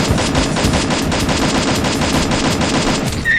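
Rapid automatic gunfire from a Free Fire match, a dense continuous burst of shots rattling loudly and evenly throughout with no pauses.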